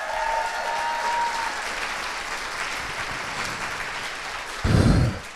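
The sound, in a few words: audience applauding South Africa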